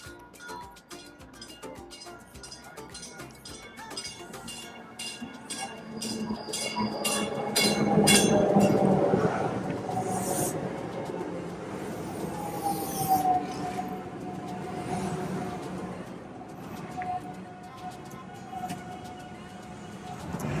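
A Chicago commuter train bound for Millennium Station rumbles and rattles along, swelling louder midway with clinks and a high whine before easing off, with repeated clicking over steady noise.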